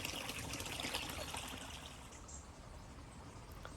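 Water from an old spring in a hillside wood trickles and splashes steadily, a close, continuous babble that fades slightly toward the end, with no voices.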